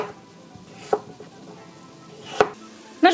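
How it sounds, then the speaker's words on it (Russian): A knife cuts potatoes into medium cubes on a board while soup is being made, giving a few sparse, distinct chops over quiet kitchen background noise, with no talk. "Нарезаем картофель средними кубиками."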